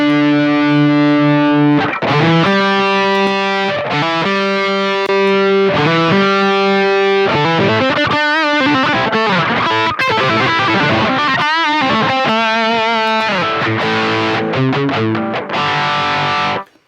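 An electric guitar plays a distorted lead line through a clean boost pedal on a pedalboard, with sustained bent notes and quick runs. The guitar is loud and close throughout, with no talking.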